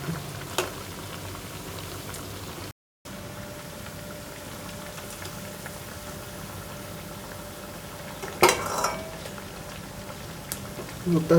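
Potato fritters (urulakizhangu vada) frying in hot oil, a steady close sizzle and bubbling that runs throughout, with a few brief clinks near the end.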